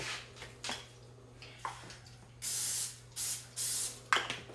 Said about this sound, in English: I'm going to spray my little jobber